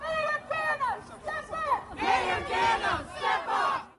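A street march crowd chants a short slogan in rhythmic unison, several loud repeated shouted phrases from a close, surging group of marchers on a city street.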